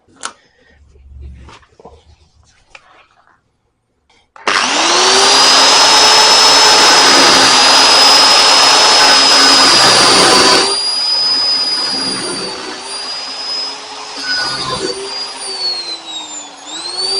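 A power tool cutting off the welded steel roll cage of a Series Land Rover trialer: after some quiet handling noises, a loud, sustained high-pitched screeching grind starts suddenly and continues, shifting in pitch as it bites.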